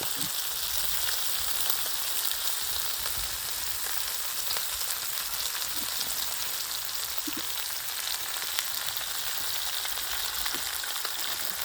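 Anchovies sizzle steadily in oil on a metal griddle pan outdoors in a garden, a dense, continuous frying crackle close by with faint background sounds and no speech over it.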